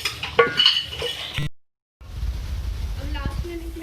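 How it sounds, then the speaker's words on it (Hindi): A spoon scrapes and clinks in a karahi while beef keema with karela cooks, with light metallic taps and faint sizzling that break off briefly and then resume softer alongside a low background hum. "मिक्स करें इसको।"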